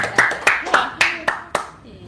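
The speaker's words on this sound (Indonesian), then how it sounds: "Tepuk tangan dong." A small audience at an Indonesian gathering claps in a few sharp, separate hand claps that fade out over about two seconds.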